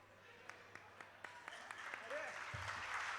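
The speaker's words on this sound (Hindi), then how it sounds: "आपकी तालियां कमजोर थी।" A few scattered, distinct claps at a summit gathering with poetry recitation, then applause building into a fuller, denser crowd sound toward the end.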